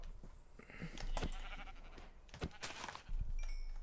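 Sheep bleat a couple of times amid clicking and game sounds in Minecraft, moderately faint with a thin ambient background.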